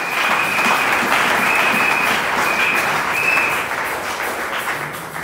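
A church congregation bursts into loud, sustained applause, dense clapping holding steady for several seconds before easing slightly at the end.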